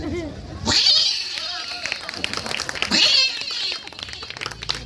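A person imitates a cat, two loud drawn-out meows about two seconds apart, close and strained, with a faint murmur between them.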